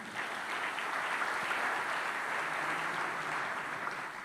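A church congregation claps together in sustained, dense applause that stays steady and full throughout, with no break in the crowd noise.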